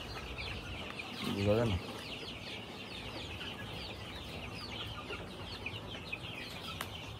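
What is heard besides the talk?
chickens clucking in a yard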